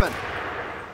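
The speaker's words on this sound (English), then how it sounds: "Now here we have my personal favorite, the 1919 A430 caliber machine gun" A 1919 .30 caliber machine gun firing in the World War II game Medal of Honor: Pacific Assault, a sharp, loud shot snapping in up close and then dissolving into a dense, rumbling wash.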